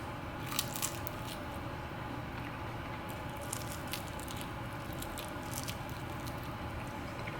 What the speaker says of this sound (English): We'll just give it a crunch. You can hear the crunch here.